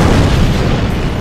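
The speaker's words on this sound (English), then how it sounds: "There's fireworks in here!" Fireworks explode in The Long Drive video game, a loud, dense burst of booming, crackling noise that fills the whole moment without a break.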